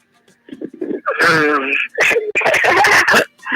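A person with a cold clears their throat and coughs during a phone call: rough, voiced throat noises followed by several harsh bursts, loud and close.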